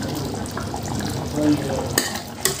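Garlic sizzling in a pan as it is stirred in while cooking zucchini with meat, a steady frying hiss with light scraping and a couple of sharp utensil clicks near the end.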